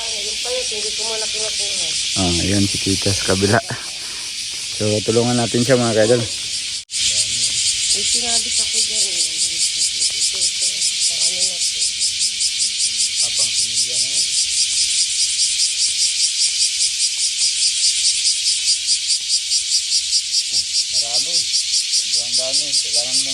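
A dense, continuous high-pitched insect drone, like crickets, fills the background while a person talks briefly over it.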